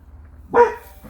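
A pet dog gives a single short, loud bark close by in a quiet home, with nothing else sounding before or after.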